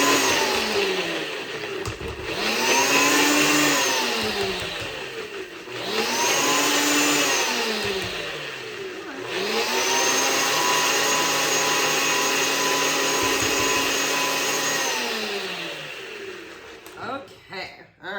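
A kitchen blender runs in three loud bursts, whirring a sweet potato pie smoothie, its motor pitch rising and falling with brief pauses between pulses.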